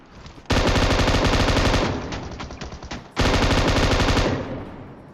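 An M249 machine gun fires in PUBG Mobile in two long, loud, close bursts of rapid rounds, each trailing off into echoing tails before the next burst.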